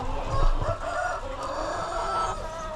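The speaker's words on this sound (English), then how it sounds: "There's a lot of chickens in here, Charlie, and roosters." Roosters crowing among clucking chickens in a chicken farm, a long drawn-out crow rising over the flock's continuous chatter, close and fairly loud throughout.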